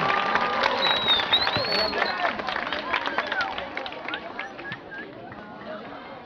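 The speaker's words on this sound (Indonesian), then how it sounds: "Ya, tepuk tangan, yuk." Students clap and cheer at a school Teachers' Day event at SMPN 1 and 2 Tajurhalang, a loose, lively crowd applause mixed with excited voices and babble that gradually thins out.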